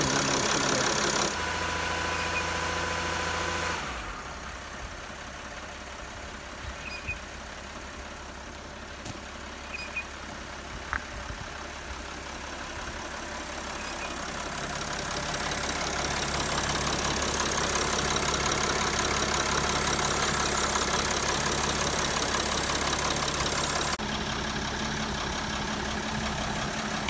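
A Mercedes Sprinter van's diesel engine idles with a steady low rumble and a faint mechanical ticking after injector seal repair, growing slightly louder partway through and continuing without talk.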